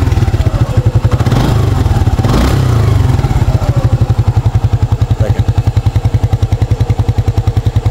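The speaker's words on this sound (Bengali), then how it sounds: "বাইকের এখন স্টার্ট করে সাউন্ড কন্ডিশন দেখাবো" A used Suzuki Gixxer SF motorcycle engine runs close by, a loud, even, rapid idle thump that rises briefly in the first seconds before settling into a steady rhythmic beat.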